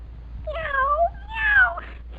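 A person imitates a cat with two drawn-out, rising-and-falling meows, close and clear, alone without other talk.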